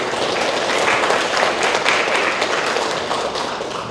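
Dense audience applause at a rock-carving research symposium in Jangheung, steady and full for the whole stretch, tapering slightly at the end with no speech.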